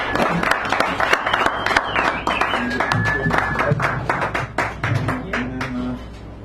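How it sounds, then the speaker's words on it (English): An audience at a poetry hour in a San Francisco cafe claps steadily for several seconds, the clapping continuous and fairly close, with a few voices mixed in underneath. "Nice round of applause."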